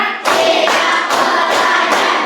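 Fifth-grade pupils clap in unison during a classroom concentration game, producing a sequence of evenly spaced, loud group claps heard up close.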